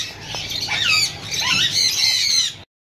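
Blue ring-necked parakeets squawk loudly and continuously at an outdoor Sunday bird market, harsh shrill calls overlapping for nearly three seconds before cutting off.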